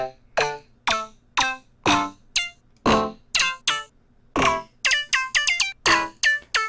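A bright synth pluck made in Serum for future bass plays a bouncy, spaced melodic pattern of short notes, with a sweeping, swirling phaser tone and quick tails, ending in a faster run.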